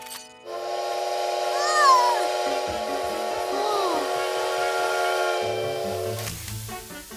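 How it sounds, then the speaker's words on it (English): A bright, multi-tone cartoon train whistle sounds steadily for several seconds, rising briefly, then cuts off into a few chugging thumps. "A train!"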